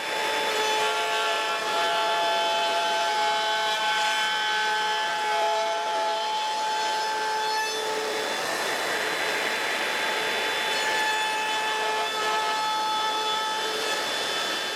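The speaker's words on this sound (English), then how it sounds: "I'm going to route a somewhat wide slot" A plunge router cutting a fairly wide slot in a wooden board on a dovetail jig. It gives a steady, loud, high-pitched whine with a harsh cutting roar and no break.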